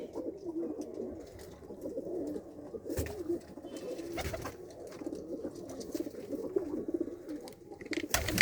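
Pigeons in a breeding loft coo continuously in low, overlapping calls, with a few sharp knocks and rustles scattered through the steady murmur.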